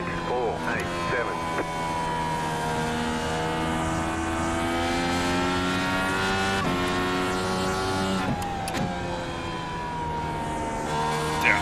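An IndyCar engine at Richmond Raceway in iRacing drones steadily and loud throughout, its whining pitch stepping down sharply a couple of times as the car downshifts.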